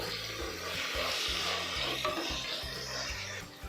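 Onions and tomatoes fry in a pan for chicken biryani, a steady close sizzle with scraping and stirring strokes against the metal, no voices.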